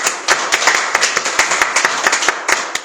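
Congregation clapping in praise during a Korean Sunday church service, a dense burst of hand claps with sharp individual claps standing out, steady and fairly close for about three seconds with no talking.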